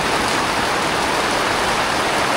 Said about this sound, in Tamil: நல்லதான் மழை பெய்யுது